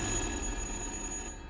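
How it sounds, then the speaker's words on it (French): A telephone rings in the horror game Little Hope, a steady electronic bell tone held loud and continuous over room hum. "Bah c'est le téléphone."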